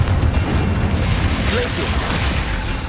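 Confringo blasting curses bursting in Hogwarts Legacy during a fight with a giant spider, a dense, loud continuous rumble of booming blasts with no clear gaps.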